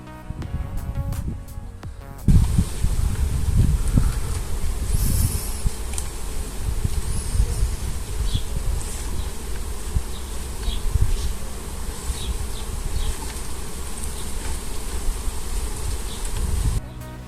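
Dense, agitated buzzing of many honeybees swarming close by, a steady loud hum with individual bees darting past, no talking.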